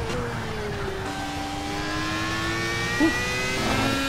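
Simulated race car engine in Project Cars, revving steadily at high pitch through the gears with rising and falling tones during a fast lap, continuous and loud with a brief shift dip near the start.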